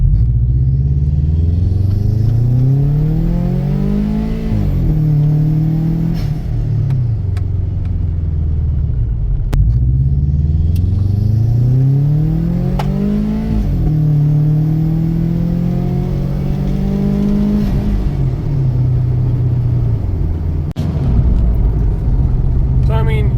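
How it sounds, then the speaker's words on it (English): A lowered Subaru WRX engine revs while driving, its low rumbling drone climbing in two long rising sweeps before dropping back, loud and continuous throughout. "My car goes psh, psh."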